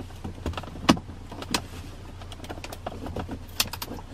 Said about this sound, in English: now to remove the actual center console main section, again using the trim tool,